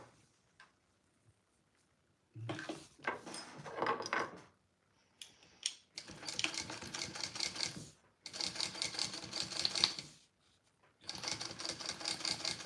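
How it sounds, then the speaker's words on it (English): Sewing machine basting through foam for a backpack, running in several loud, fast mechanical bursts separated by short pauses, with a brief rattle of handling before it starts. "We'll see how this goes sewing through that foam."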